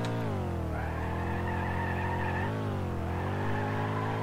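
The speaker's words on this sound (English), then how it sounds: "We'll do a burnout." A BeamNG.drive video game truck does a burnout, its loud revving engine droning steadily while tires squeal and screech on top, the pitch dipping briefly and rising again, close and continuous.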